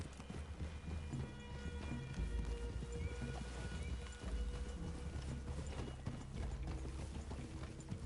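Steady clip-clop of horse hooves at a walking pace, with a whinny and some creaking tack over a low game ambience in Red Dead Redemption 2.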